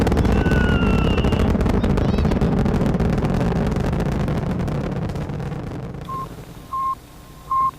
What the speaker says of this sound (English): Liftoff on Apollo 11.